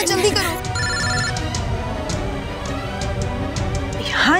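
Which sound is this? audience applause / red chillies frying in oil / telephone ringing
telephone ringing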